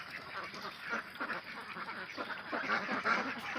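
Ducks quack repeatedly in a busy, overlapping chorus, fairly close, with scattered calls rising above a steady background.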